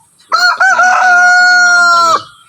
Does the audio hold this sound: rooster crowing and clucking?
yes